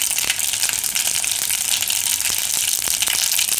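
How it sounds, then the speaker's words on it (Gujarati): Mustard seeds pop and crackle in hot oil in a pan, a dense steady sizzle dotted with sharp little snaps throughout, close and fairly loud with no voices. "રાઈ બધી ફૂટવા દેવાની."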